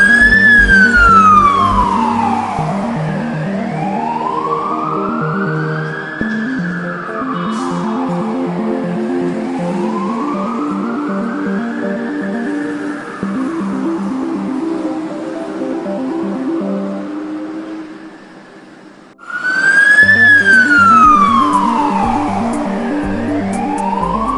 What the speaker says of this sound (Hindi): हम यहाँ से सायरन बजा के